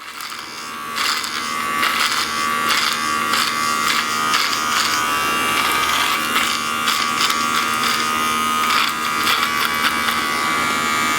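A Happy Nuts electric hair trimmer fitted with its small guard buzzes steadily as it shaves a face, the motor drone close and continuous with crackling bursts where the blades catch stubble.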